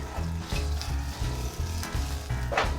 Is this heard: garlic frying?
yes